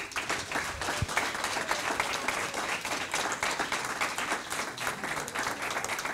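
An indoor crowd at a competition finale in Martinique applauds steadily, a dense patter of many hands clapping throughout without a break, with no one speaking over it.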